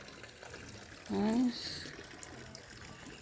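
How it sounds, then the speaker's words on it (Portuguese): Water runs from a public drinking fountain behind a fountain on a green hillside in Tiradentes, Brazil. A brief, soft hiss of flow follows a short spoken word, over quiet outdoor background. "Atrás do primeiro chafariz, a gente tem um bebedouro aqui."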